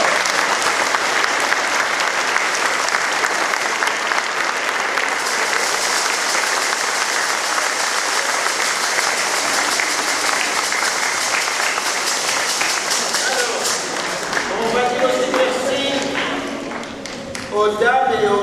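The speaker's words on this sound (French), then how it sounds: "On peut les applaudir très fort." A church congregation at a first communion celebration applauds the children loudly for a long stretch, the clapping fading out near the end as voices emerge.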